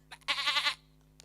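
A human voice imitates a baby goat with a single short, wavering, high-pitched bleat, close and clear, preceded by a few faint soft sounds.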